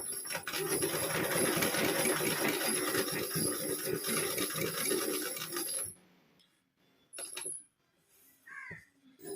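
An embroidery sewing machine runs steadily and loudly for about six seconds while stitching flower designs, its rapid needle strokes forming a dense mechanical chatter, then it stops and a few faint clicks and a brief murmur follow in near quiet.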